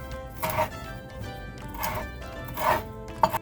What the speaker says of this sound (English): We got our fresh parsley here we're chopping up.